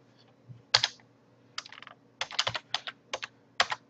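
Fingers type a new name on a computer keyboard, a burst of quick close clicks in irregular clusters with brief pauses, crisp and fairly quiet against a faint background hum.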